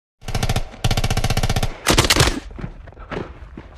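Rapid bursts of automatic gunfire in a war film about Finnish soldiers fighting Soviet forces, two long loud rattling volleys followed by heavier shots and scattered fire fading out, close and intense.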